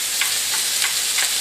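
Chopped bacon rashers spitting in a hot frying pan, a loud, close, continuous crackling sizzle with a few brief stir-like pulses, no voices.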